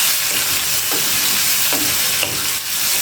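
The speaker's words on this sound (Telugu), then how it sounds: "ఇది కూడా ఈ పోపులో వేసేసి కొంచెం ఫ్రై చేద్దాము." Grated raw mango fries in a tempering pan of hot oil for a vermicelli mango dish, giving a loud, steady close-up sizzle and hiss with a few soft stirring scrapes.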